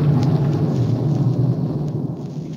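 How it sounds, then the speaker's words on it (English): Thunder rolling in a low, heavy rumble that swells and slowly fades over a couple of seconds, heard alone without voices. "It does sound like thunder, doesn't it?"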